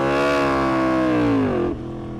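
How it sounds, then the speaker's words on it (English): A Yamaha R1M or Aprilia RSV4 superbike on launch control screams at a high, sustained rev close by, its pitch sagging slightly before it drops abruptly to a lower idle. "That revved way too high."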